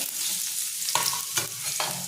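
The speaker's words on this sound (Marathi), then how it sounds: "मोहरी फोडणी घातलेली आहे आणि कांदा आणि कढीपत्ता फोडणीला टाकलेला आहे" Onion and curry leaves sizzle in hot oil over a crackling mustard seed tempering, a steady frying hiss broken by several sharp stirring scrapes. The pan sounds close and no one speaks.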